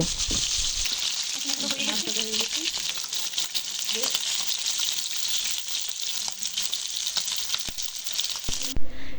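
Desi koi fish frying in hot oil, giving a loud, dense crackling sizzle that runs steadily throughout with occasional faint stirring noises.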